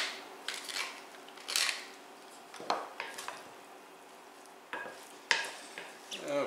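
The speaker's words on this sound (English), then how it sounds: "black pepper, several grinds" Pepper mill grinding black pepper over zucchini mint tabbouleh, several short crunchy grinding bursts spaced apart, close and fairly quiet.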